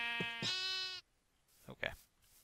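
Sheep in a Minecraft-style video game give two sharp, buzzy bleats in quick succession, close and loud, followed by a pause and then a short stretch of a man's speech.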